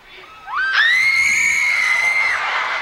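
On stage at the Viva Dichato 2014 concert festival, a man imitates girls screaming with one rising, high falsetto shriek held for about two seconds.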